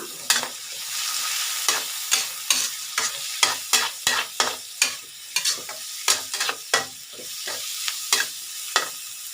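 Onion and chicken giblets stir-fry in a hot pan, with a bright continuous sizzle broken by a quick, regular series of scraping stirs from a spatula, close and fairly loud, with no talking.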